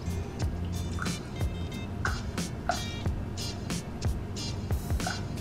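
Distilled white vinegar goes onto a kitchen scale while making fermented hot sauce, heard as a quiet series of irregular drips and small liquid taps over a low background hum.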